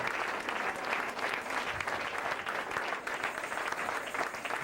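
Steady, dense applause from a church congregation welcoming a bishop fills the whole stretch, clapping evenly without pause.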